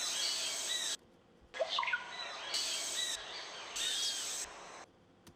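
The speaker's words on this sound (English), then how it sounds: "I could have put it a little lower to get more of that bird's vocal sound." Synthesized bird calls made in Ableton, chirpy sweeping tweets in short bursts separated by near-silent gaps, bright and thin with no talking.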